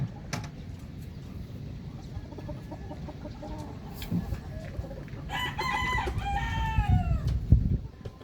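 Chickens cluck steadily in the background on a farm while a rooster crows loudly partway through, over a low, busy outdoor rumble.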